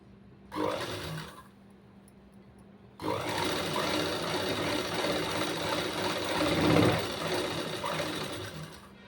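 A sewing machine stitches the neck of a blouse with computer embroidery work, with a short whir first, then a long, steady, close-up mechanical hum that runs continuously to the end.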